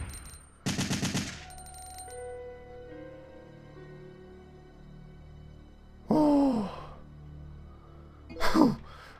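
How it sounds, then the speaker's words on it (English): Gunfire in the video game Resident Evil 3 classic: a short rapid burst of shots, a single shot later, then a final shot, with game tones and effects ringing between them. "I'm just gonna keep firing"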